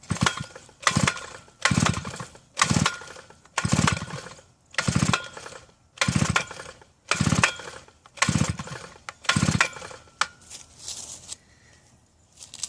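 On a 2-stroke auger lying on its side, the starter cord is yanked again and again. Each pull gives a ratcheting whirr, about ten pulls in an even rhythm, close and loud, and the engine never catches.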